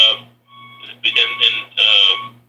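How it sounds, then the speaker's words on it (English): A reversing truck beeps steadily outside, its tonal alarm pulsing in repeated bursts with short gaps, fairly loud and clear while a faint steady hum sits underneath. "I got a truck backing up here."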